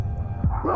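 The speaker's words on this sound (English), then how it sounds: "barking from the garage is harsh, ragged, bloody" A single dog bark, harsh and ragged, heard close against a low rumbling background in a short burst.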